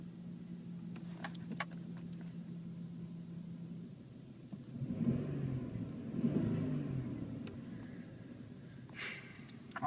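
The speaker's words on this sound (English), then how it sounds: "She starts right up, runs very smooth." A 1990 Chrysler New Yorker Landau engine idles with a quiet, smooth, low rumble that runs continuously and swells a little midway, with a few faint clicks and rustles.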